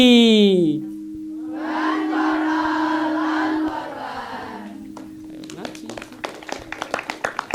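An audience at a Ngaji Budaya cultural gathering at a student dormitory applauds a speaker. After a drawn-out voice, a crowd cheers, then sharp claps start and build toward the end.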